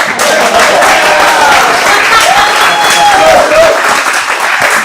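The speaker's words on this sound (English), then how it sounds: "We're going to clap for them, though." Studio audience applause on a talk show, a dense, steady wash of clapping at close range lasting the whole stretch, with faint tonal voices or cheers rising through it.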